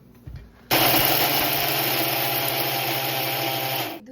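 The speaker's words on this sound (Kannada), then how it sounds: "ಸೊ ಇದನ್ನೆಲ್ಲ ಈಗ ಮಿಕ್ಸಿ ಮಾಡಬೇಕು." A mixer grinder dry-grinds jaggery, salt and turmeric powder. After a short quiet start, the motor kicks in abruptly with a loud, steady whirring roar and runs evenly, easing off just before the end.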